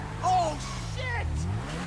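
Video game car engine revving and driving in Grand Theft Auto, a steady low drone with a rising rev surge near the start, while people talk and shout over it.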